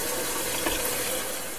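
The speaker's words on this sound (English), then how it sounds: "I'm going to go ahead and wash these," Tap water running steadily into a sink while six pounds of bone-in pork ribs are washed, a continuous close rushing hiss with no talk.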